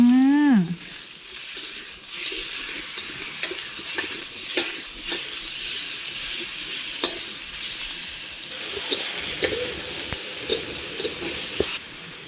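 Pork being stir-fried in a pan with red curry paste, a constant close sizzle broken by repeated scraping and clacking of a spatula, after a brief electronic chirp at the start, with no talking.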